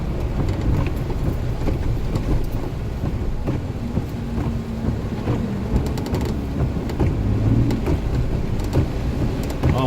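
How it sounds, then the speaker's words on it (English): A thunderstorm with steady heavy rain and wind roaring against the microphone, low rumbles of thunder rolling underneath, dense and loud throughout with no talk. "Oh, this little thunderstorm looks like it did some damage."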